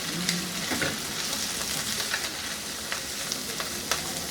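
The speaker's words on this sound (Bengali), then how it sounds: "দিয়ে একটু ভেজে নিব মিনিট খানেক" Spring onion bases frying in a pan for yaki udon, a steady close sizzle with a few light scrapes and clicks of stirring, no voices.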